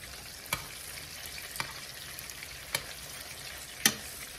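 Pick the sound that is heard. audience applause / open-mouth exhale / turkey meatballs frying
turkey meatballs frying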